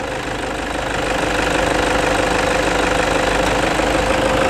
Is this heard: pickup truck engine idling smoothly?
yes